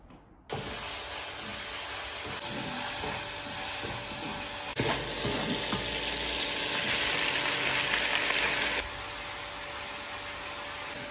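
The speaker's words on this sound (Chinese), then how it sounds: "要想木耳不炸，就不停地给它翻炒啊" Wood ear mushrooms stir-fried in a wok in a home kitchen, giving a steady loud sizzle and hiss that swells louder midway, with no talking.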